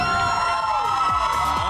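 A television studio audience cheers and whoops loudly for a makeover show's contestant, a dense steady crowd roar with shouts rising over it throughout.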